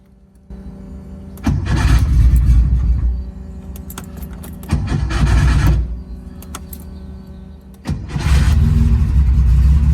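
A 50-year-old Porsche 911 engine is cranked and started three times. Each attempt is a loud, close burst of rough running that settles briefly before cutting out, and the last one catches and keeps going.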